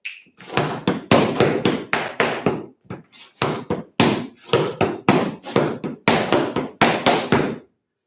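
Tap dance steps ring out as a series of crisp, close taps and scuffs on a hard floor, falling in repeated rhythmic phrases separated by short pauses.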